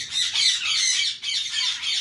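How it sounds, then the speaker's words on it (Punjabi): A parrot squawks loudly and close, two long harsh, raspy calls separated by a brief break, with no talking. "ਤੋਤਾ"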